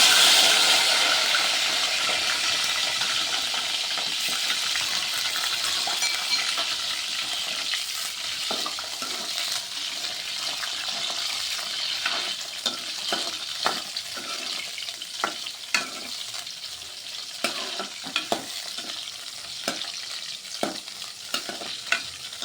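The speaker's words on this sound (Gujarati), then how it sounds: "તેલ ગરમ થઈ ગયું એટલે હવે આપણે શરૂઆતમાં જે આપણે આ મરચાં વઘારવાના છે એ મરચાં વઘારી લઈએ" Hot oil sizzles steadily with a bright crackling hiss as chillies are tempered, then sharper pops and spatters become more frequent toward the end; no talking.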